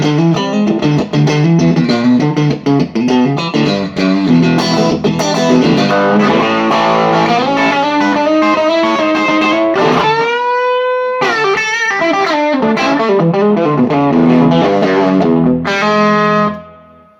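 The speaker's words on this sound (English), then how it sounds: "So this amp sounds absolutely massive at a low volume." Electric guitar played through a modded Fender Blues Junior amp, a loud continuous overdriven passage of chords and melodic runs with a brief bent lead phrase near the middle, then a quick fade at the end.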